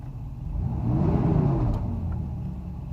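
A cold Mercedes 600SL engine takes a short blip of throttle, rising to a brief rev and settling back to a steady idle rumble, loud and close.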